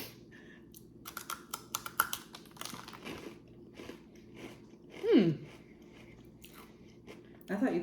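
Crunchy bites and chewing on a Trader Joe's snack, a few sharp crisp crunches and softer close-up mastication over a quiet room, with one louder bite near the end.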